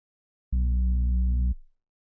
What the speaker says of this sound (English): You're basically just saturating sine waves, which give it a bit more thickness.